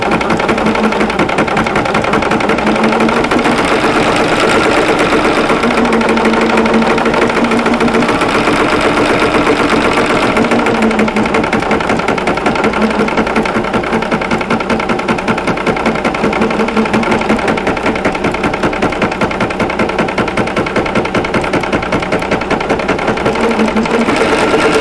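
An embroidery machine stitches the outline of a stocking with a loud, steady, rapid needle rattle that runs unbroken and close up the whole time, with no voices.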